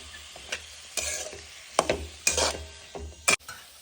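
Spoon scraping and stirring shredded cabbage through masala paste in a pan, a few sharp clacks against the metal among softer rustling and faint sizzle, close and uneven in rhythm.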